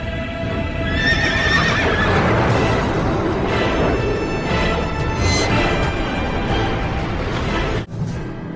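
A black horse neighs loudly and close, with clip-clopping hooves and dramatic background sound running beneath it for several seconds.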